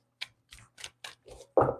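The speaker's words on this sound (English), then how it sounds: "I'm just shuffling the deck to make sure I get it really shuffled until it feels good." A tarot card deck shuffled by hand gives five or six crisp, separate riffling snaps in quick succession, close and clear, ending in a louder, fuller shuffle burst, with no talk.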